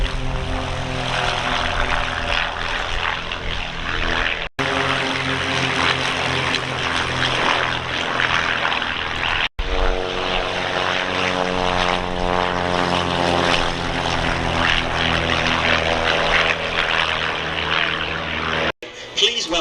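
Team Raven aerobatic display aircraft taking off at the Shuttleworth Festival of Flight, their loud propeller engines droning steadily and close throughout, the pitch wavering as they climb away under faint announcer commentary.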